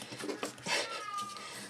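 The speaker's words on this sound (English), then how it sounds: "that's Amanda's cat." A house cat meows a few times close by, short plaintive calls in a quiet indoor room.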